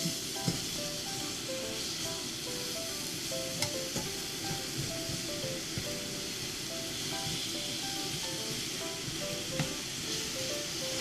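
Apple cake batter cooks on low heat in a pan, a steady, close soft sizzle and hiss running continuously with occasional faint ticks and light stirring, with no talking.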